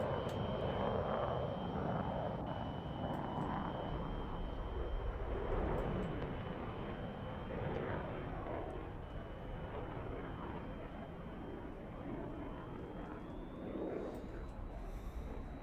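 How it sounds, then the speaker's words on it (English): Su-33 jet engines spooling up at a Roblox video game airshow, a steady broad roar that holds throughout with a faint rising whine near the end. "You see the Su-33 lighting its engines now as it prepares to come in for one final manoeuvre, the high-speed pass"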